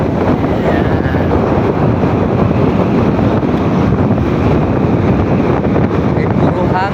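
Strong wind buffets the microphone outdoors on a ride through Biliran, producing loud, continuous low rumbling and roaring gusts that fill the whole stretch with no pause.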